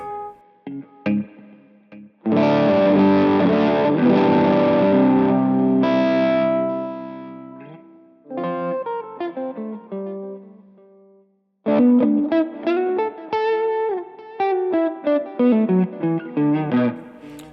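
Electric guitar played through a Tonex Bogner Ecstasy amp model with delay and spring reverb: driven sustained chords, then bursts of plucked notes and quick melodic runs, with short pauses between phrases.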